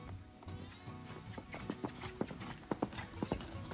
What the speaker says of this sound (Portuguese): A égua no galope é esquisito.